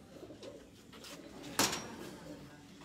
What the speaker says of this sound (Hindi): ये कबूतर बिल्कुल सर्दी में आया हुआ है।